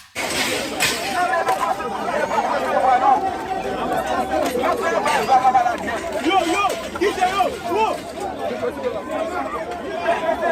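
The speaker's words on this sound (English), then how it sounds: "yet another large group of migrants, apparently from Haiti, broke through barriers at a refugee office" A large group of migrants breaking through barriers at a refugee office, heard as a dense, loud crowd of shouting and chattering voices with scuffling movement that runs continuously throughout.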